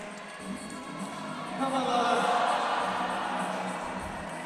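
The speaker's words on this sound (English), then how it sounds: "Crowd just willing that quick draw closer to her." A lead-climbing final crowd at the European championships roars and cheers a climber on the wall, the noise swelling midway into a sustained, fairly distant wash of voices and whoops.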